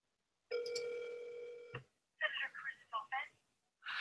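A steady electronic telephone tone sounds for about a second, followed by short chirpy voice-prompt fragments of a phone line.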